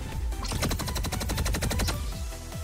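Light-bullet attack in the video game Anime Vanguards, a rapid volley of sharp, evenly spaced bursts fired in quick succession for about a second and a half, loud and dense over game background sound.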